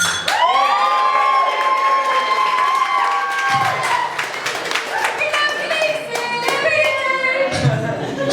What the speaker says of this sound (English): I shall probably ask for a huge round of applause and a toast